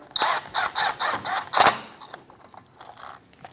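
Ratchet clicks tighten a brake rotor screw on a 2016-2025 Chevrolet Malibu, with a quick close series of sharp mechanical ticks and a final louder snap, then fainter handling noises.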